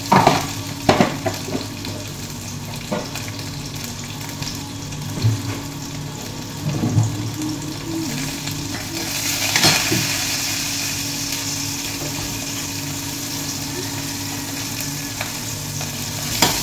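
Steady sizzling and crackling of chillies frying in a pan, with occasional stirring clatter and a brief louder hiss partway through.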